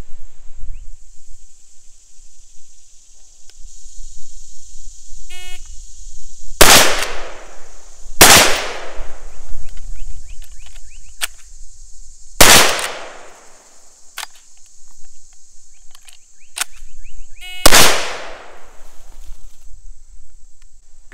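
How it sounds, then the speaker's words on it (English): A Marlin 1894 lever-action rifle fires four loud, sharp shots outdoors, spaced a few seconds apart, with the metallic clack of the lever cycled between them over a steady high-pitched insect drone. "I'm going to fire out those first two rounds"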